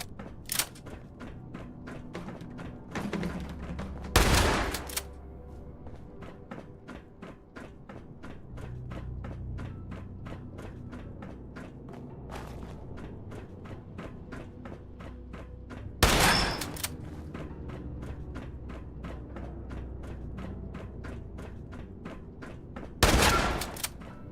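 Rapid, evenly spaced gunshots from a loud weapon in Fallout 76, firing in long sustained strings, with several sharper, louder blasts standing out.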